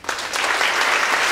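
An audience bursts into steady, dense applause for a keynote speaker at Louisiana State University in Shreveport, with clapping rising quickly and holding loud throughout.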